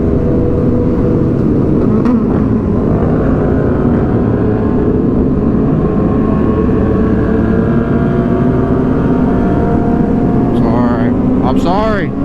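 A Yamaha FZ09 motorcycle's exhaust drones loud and steady throughout, a raspy engine tone with wind rush, with higher whining sweeps near the end and voices talking over it.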